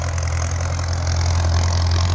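A Ford farm tractor engine runs with a deep, steady low rumble and a slight rise in loudness, close by, with no voices.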